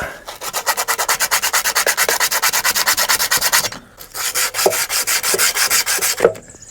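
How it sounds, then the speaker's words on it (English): Old paint is rubbed off a copper pipe with fast, even back-and-forth scraping strokes. The rasping is close and continuous, stops briefly, then resumes. "Now what we need to do is take the old paint off"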